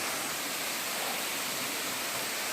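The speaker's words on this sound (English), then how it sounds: "And then you just have this beautiful waterfall right here." A waterfall on the Cloudland Canyon trail roars as a steady, loud, dense wash of falling water with no talk.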